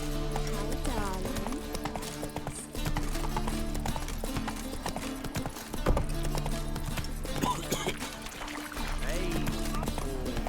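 Roach, the horse in The Witcher 3, gallops with rapid rhythmic hoofbeats clopping steadily throughout, loud and close, alongside game music and ambient sound.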